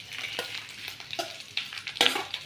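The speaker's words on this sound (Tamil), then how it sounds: "நல்லா வதக்கி எடுத்துக்கலாம்" Greens being sautéed in a pan give a soft continuous sizzle, broken by several spoon scrapes and stirring clatters, close and with no voices.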